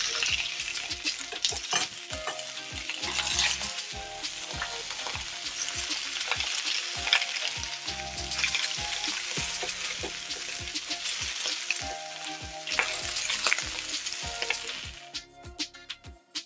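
Oxtail pieces searing in a hot pan, a loud crackling sizzle with repeated clunks and scrapes as the meat is turned, easing off near the end, up close with no talking.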